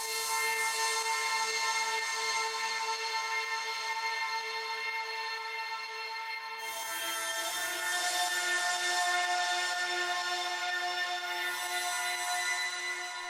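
A bright, high synth pad from a Diva preset for a melodic techno track, with notes spread apart, sustains as a dense harmonic chord; it shifts to a new chord about halfway through and plays alone throughout.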